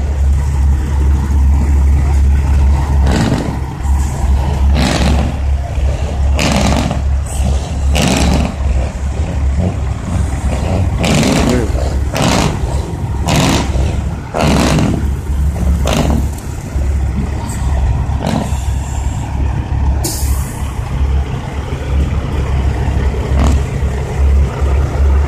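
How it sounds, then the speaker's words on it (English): Flatbed truck engines idle with a deep, steady low rumble while repeated bursts of revving and passing noise rise and fall over it, loud and near throughout. "These are some beautiful trucks. It's a flatbed."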